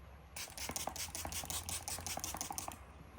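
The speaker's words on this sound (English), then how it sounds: "Setting spray." Setting spray mists onto a face in a quick series of about ten hissing spritzes, close and fairly loud, with no talking.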